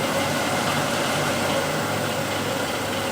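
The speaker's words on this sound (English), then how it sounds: "turn on the lathe slowly and increase the speed gradually" A wood lathe runs with a steady, even mechanical hum and whir at constant volume, close by, with no voices.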